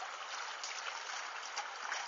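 Water mixed with worm juice is poured into the Crati river as groundbait for eel fishing, giving a steady, close splashing trickle with no talk.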